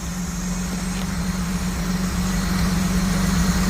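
Vintage MOPAR engine idles with a carburetor running lean: a steady, close, low droning hum with a constant even tone and no talking.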